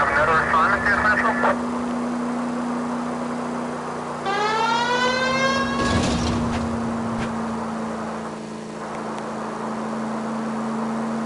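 Police car siren in a video game wails with rising and falling sweeps, fairly loud for a couple of seconds, amid engine hum, radio chatter and other game sounds, with talk before and after.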